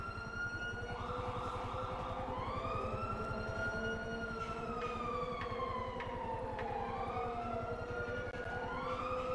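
An emergency vehicle siren in the video game GTA 5 wails continuously, sweeping up and down in long cycles over a steady low engine rumble, moderately close and without speech.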